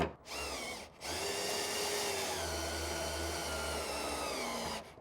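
A cordless drill set to a torque setting drives a plus nut into a fridge mount, running steadily for about four seconds after a brief short burst, then stopping; close and loud with no talk.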